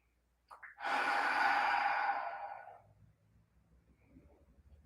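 A single long, deep exhale during a yoga practice, a soft breathy rush lasting about two seconds after a brief inhale, close and clear, then fading into quiet room tone.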